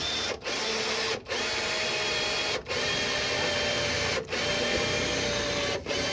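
Electric drill boring holes to mount an LED spotlight, a loud continuous whirring motor run in several bursts separated by brief pauses.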